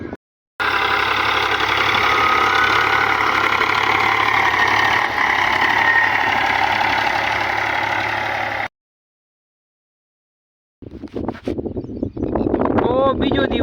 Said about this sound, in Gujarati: ભાઈ આવી ગયા છે ટ્રેક્ટર લઈ અને વાવવા